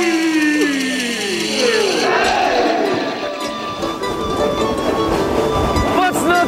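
A train rolling along the tracks in the Andes with high squealing wheels and rumbling carriages, busy crowd noise and voices in the background.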